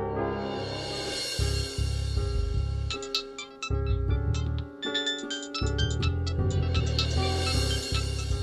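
A phone ringtone plays a bright melodic tune, repeating in short phrases, clear and close with no voices.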